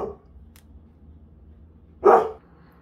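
A dog barks twice, a softer bark at the start and a louder, sharper one about two seconds later, set against a quiet indoor background.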